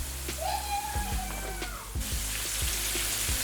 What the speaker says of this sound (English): So when you're frying your popcorn chicken,